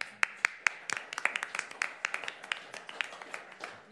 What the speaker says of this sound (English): let's not make a habit of too much clapping or hooting or hollering during this town hall